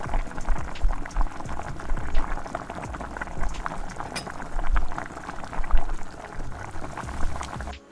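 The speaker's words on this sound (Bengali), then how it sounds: "ম্যারিনেট করা চিকেনটা ঢেলে দিলাম" Marinated chicken with salt and turmeric cooks in a pan over fried ginger, garlic and onion paste, giving a busy bubbling, spattering sizzle with uneven surges in loudness and no voices.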